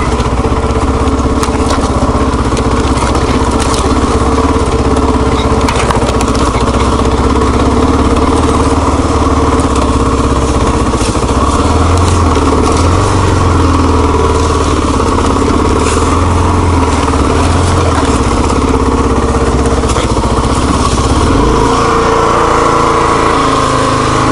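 A Kawasaki KLR dual-sport motorcycle rides along a dirt trail. Its single engine drones steadily and loudly up close, with rough rumbling and no talk.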